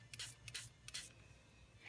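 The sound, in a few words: spraying shimmer mist and alcohol onto paper craft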